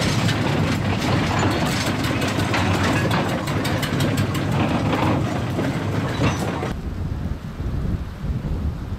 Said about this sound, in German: Hier verlässt erneut ein Grubenzug das Bergwerk.